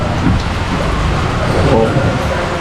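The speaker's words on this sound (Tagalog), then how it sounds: "Mayroon na naman bagyo mga ka-business. Kaya ito, ulan na naman." Heavy rain pours down during a typhoon, a dense continuous hiss and patter close by, steady and loud throughout, with faint background rumble.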